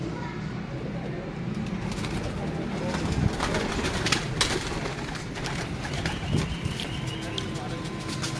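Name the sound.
pigeons cooing in a breeder's loft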